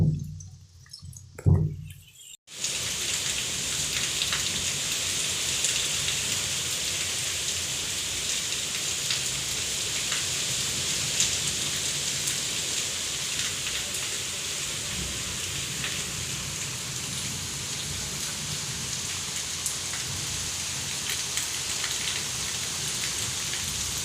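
Monsoon rain pours down on a Gujarat farm, a dense, steady patter of drops on surfaces. It follows a brief quieter moment with a short knock, then continues evenly and fairly loud.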